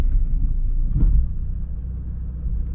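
A Chevy HHR with a misfire and lumpy idle rolls through an alley and comes to a stop, its low engine rumble swelling briefly before settling into a steady, muffled idle.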